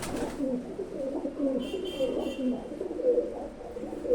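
A pair of Kalanka pigeons, male and female, coo repeatedly in low, soft rolling calls over faint background noise, close by.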